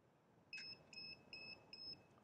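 Four evenly spaced electronic beeps, clear and high-pitched, from a two-speed above-ground pool pump timer being programmed, over a quiet background hum.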